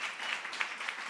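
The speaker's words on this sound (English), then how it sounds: "Please give them a big round of applause." Audience applause at a nation brand forum, a brief burst of steady clapping from a crowd, moderately loud with no speech over it.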